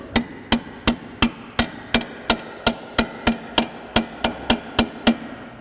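A hammer tapping a socket down onto a front lower control arm part of a 1998 Mazda 626, about sixteen sharp metallic strikes in a steady, even rhythm, close and loud.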